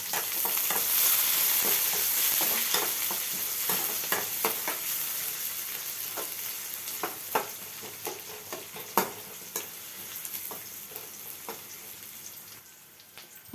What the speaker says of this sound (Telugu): ఆనియన్స్ కూడా కొద్దిగా ఆయిల్లో వేగిన తర్వాత